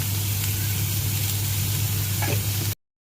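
Tomatoes and spices sizzle and fry in a pan for egg biryani, a steady close hiss with a low hum underneath that stops abruptly near the end.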